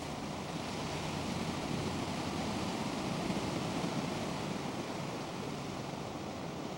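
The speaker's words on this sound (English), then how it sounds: "the waves are blowing pretty bad." Ocean waves surge against a pier on a windy day, a steady, dense roar of surf and wind buffeting that holds at an even, fairly loud level throughout with no voices.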